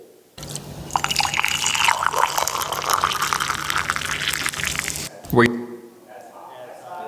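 Cold water poured in a continuous splashing stream for several seconds, fairly close and loud, ending abruptly, followed by a person speaking briefly.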